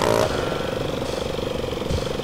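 A motorcycle engine during a delivery mission in GTA Brasil, a steady buzzing drone that holds close and loud throughout with slight rhythmic pulsing, no talk.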